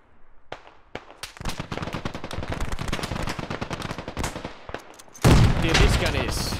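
Rapid gunfire from the military shooter Squad crackles in dense bursts throughout, close and loud, ending in a heavier, louder volley of shots.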